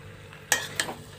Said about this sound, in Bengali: এবার আমরা একটুখানি নাড়াচাড়া করে জল দিয়ে দেবো